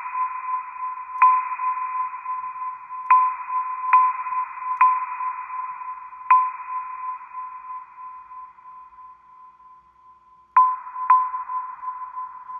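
Struck sticks and stones, played as music and processed with a long reverb, give clear pitched pings that ring out and decay slowly, spaced irregularly, with a fading tail before two final hits.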